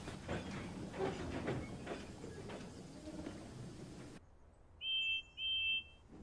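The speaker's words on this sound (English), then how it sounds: "He took some empty clay trucks out of a siding and marshalled them under the hopper." Empty clay wagons are shunted under a hopper, rumbling rail noise with clanking wagons rolling along for several seconds, then stopping abruptly before two short electronic beeps sound.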